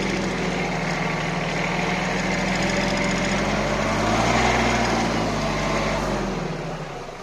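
A small tractor with a front-mounted snow blade runs close by, its engine a loud continuous drone that rises slightly midway and eases off near the end, with no speech over it.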